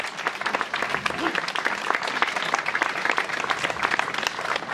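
Audience applause at a Slovenian grape harvest festival at Svetinje, dense steady clapping from a crowd throughout, fairly loud and close, with a few voices mixed underneath.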